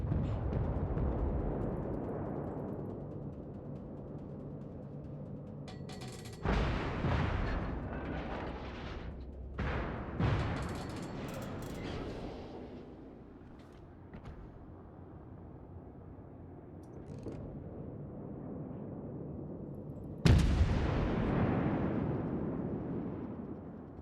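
Naval gunfire in the World of Warships video game: heavy warship cannon salvos boom out in a few separate loud bursts, around a third of the way in, again shortly after, and a strong final one near the end, each trailing off into rumble.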